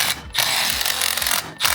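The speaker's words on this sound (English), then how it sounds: "I'm going to be using an impact driver" An impact driver tightens a screw on a Haworth Fern chair, giving a close, loud, rapid rattling hammer sound that runs for over a second before stopping, with a brief second burst starting at the end.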